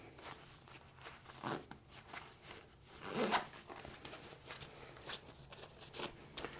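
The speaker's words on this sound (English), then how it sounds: "all you have to do is zipper it closed" Several quick rasping zips and rustles, close by, with a longer zipping pull in the middle, as a Matador Refraction Pro packable backpack's zipper is closed amid fabric handling and no talking.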